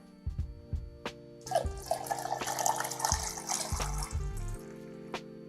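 Liquid poured from one vessel into another during kombucha-to-jun brewing, a burbling, splashing fill lasting a few seconds, preceded and followed by a few close knocks and clinks of containers.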